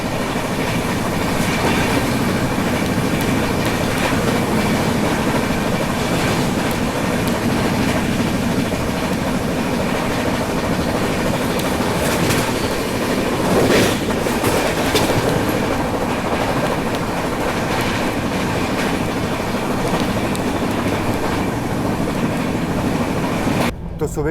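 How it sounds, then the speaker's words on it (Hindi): A passenger express train runs at speed past Sirhind junction, with a loud continuous rumble and rhythmic clickety-clack of wheels over rail joints, heard from on board the train throughout. "अभी फ़िलहाल अपनी ट्रेन सिरहिंद जंक्शन को स्किप कर रही है"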